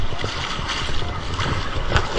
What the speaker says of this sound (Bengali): ঢেউটা একবার দেখুন, বাহ!